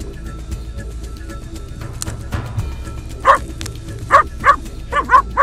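A dog in an open pasture barks in a series of sharp, loud yelps toward the end, several quick barks after quieter rustling and distant sounds.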